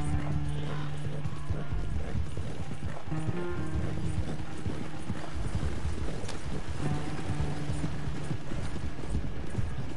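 A video game horse trots with continuous clip-clopping hooves, steady and close, alongside a rattling cart mechanism and a brief whinny, with no voices.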